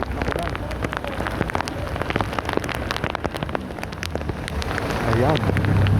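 Heavy monsoon rain pouring in Barangay Llano, North Caloocan, a dense constant patter of drops drumming on surfaces with scattered louder splats, steady and close, ending in a low rumble.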